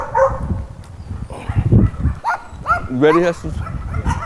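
A big shelter dog at an animal control facility barks and whimpers nearby while a person speaks over it, with several sharp yips mixed into the talk.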